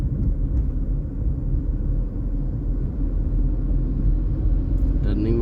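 Steady low engine rumble from a car in motion during a driving lesson, the engine pulling under acceleration, with an instructor's voice talking over it throughout.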